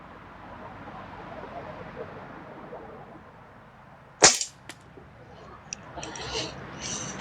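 Single sharp gunshot fired at a target while shooting from different positions outdoors, one loud crack at mid-clip with a short echo, followed by faint handling noises.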